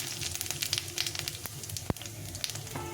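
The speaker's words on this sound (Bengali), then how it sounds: "লঙ্কাটা একটু ভাজা ভাজা হয়ে গেছে, কিছুটা পরিমাণ জিরে দিয়ে দিলাম।" Cumin seeds and a dried red chilli frying in hot oil in a pan, giving a steady close crackling sizzle with scattered pops and one sharp clack partway through.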